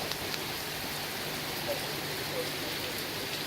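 Heavy rain pours steadily onto a shelter along the Hadrian's Wall trail, a dense, continuous hiss with no letup across the whole stretch.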